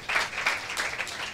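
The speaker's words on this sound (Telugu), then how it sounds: "చప్పట్లు కొట్టి దేవుని నామాన్ని మహిమపరచు" A church congregation claps together at a gospel meeting in Hyderabad, a steady dense patter of many hands filling the hall without a break, fairly loud and close.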